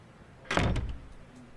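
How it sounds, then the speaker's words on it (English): A single door swings shut with a sharp, loud thud in the horror video game Araya, followed by a brief fading rumble and then quiet. "Close the door back."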